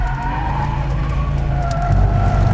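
A BMW E30 drift car's engine roars loudly at close range as the clutch is kicked, with tyres skidding and squealing over a steady, heavy drone.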